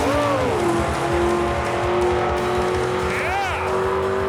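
A 1966 Chevy Chevelle with big rear wheels roars down a drag strip, its engine a loud, sustained racing howl with rising pitch sweeps as it pulls through gears, backed by crowd voices and commentary.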